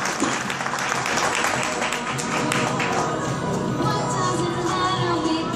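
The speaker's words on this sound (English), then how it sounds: "Let's have a nice round of applause for Megan." A fashion show audience gives a steady, dense round of applause that carries evenly from start to end, with a few voices faintly mixed in.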